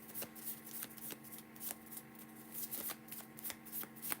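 A tarot deck is shuffled by hand, giving soft, quick riffling and card flicks with sharp snaps at intervals, faint and close in a quiet room.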